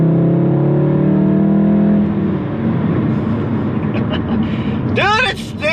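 A stock MK7 VW Golf R accelerating hard, heard from inside the car as a loud, steady engine drone that eases off partway through, while someone talks over it.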